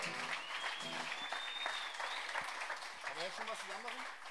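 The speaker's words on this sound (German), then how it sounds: "Könnt ihr einmal Applaus spenden bitte für diesen großartigen Künstler?" Sustained applause from a sizable crowd at Wacken Open Air 2018, dense and steady throughout, with some cheering and voices mixed in.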